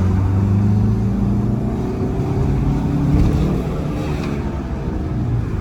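A Fiat Albea 1.4 engine with a crankshaft and camshaft position sensor fault revs during a test drive in second gear, a loud steady low drone that swells briefly in the middle, heard from inside the car.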